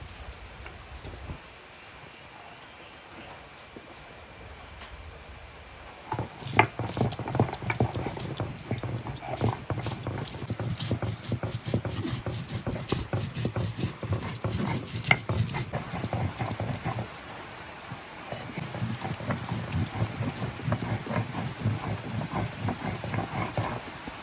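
Ginger, cumin, black pepper and dried and green chillies are ground into a spice paste: steady, rhythmic scraping strokes start after a quiet opening and continue close up.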